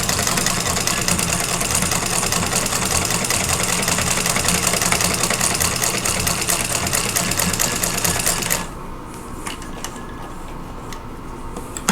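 A sewing machine stitches steadily along a drawn line on a quilt block, a dense continuous mechanical whir for about eight seconds before stopping abruptly, leaving faint quiet handling noise.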